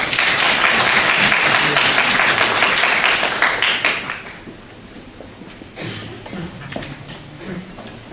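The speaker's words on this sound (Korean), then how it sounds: "박수 부탁드리겠습니다." An audience at a 2013 Korean architecture and urban policy forum applauds loudly. The dense clapping holds for about four seconds, then thins out and fades to a few scattered claps.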